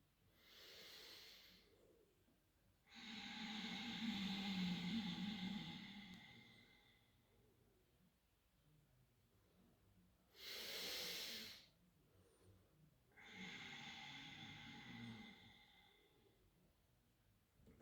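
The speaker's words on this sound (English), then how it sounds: "Make your exhale audible." Slow, deliberate yoga breaths heard up close, each exhale pushed through a narrowed throat into a long, hissing, snore-like rush, with soft inhales between them, repeating in an unhurried rhythm during a chair yoga session.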